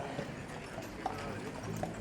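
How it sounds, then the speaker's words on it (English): Horse-drawn carts clip-clop along a street in Palma Old Town, Mallorca, the steady hoof beats moderately close amid city background noise. "we're still seeing the horses and the carts over here"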